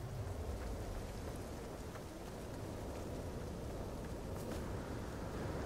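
Steady, dense rain in a hot storm on an alien planet in No Man's Sky, a constant loud hiss with a low rumble beneath it, unbroken and with no voices throughout.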